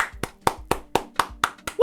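Hand clapping at an address by the JAMB registrar, eight slow, evenly spaced claps heard close and clear with no talk over them.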